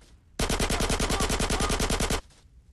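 Rapid machine gun fire in the video game GTA San Andreas, a single loud, close burst of evenly spaced shots lasting about two seconds, with no talking.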